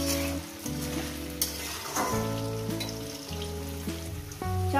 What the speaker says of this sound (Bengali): এটাকে আমি 4 মিনিট ভাজবো